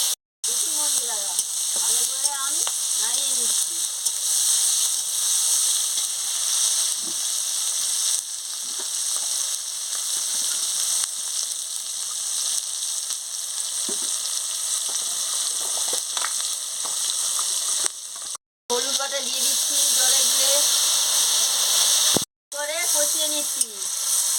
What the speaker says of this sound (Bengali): কাঁচা লঙ্কা দিয়ে দিচ্ছি দিয়ে ভালো করে নাড়িয়ে নিচ্ছি